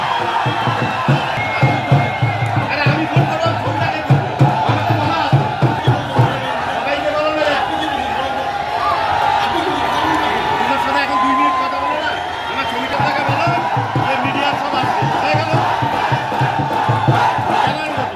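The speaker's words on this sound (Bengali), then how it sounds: "জলপাইগুড়ির কদমতলা মোড়ে ভারত সমর্থকদের উল্লাসে মেতে ওঠে কদমতলা মোড়" Crowd of India supporters at the Kadamtala crossroads in Jalpaiguri cheer and shout continuously, a dense, loud roar of many voices with whoops and rhythmic shouting throughout.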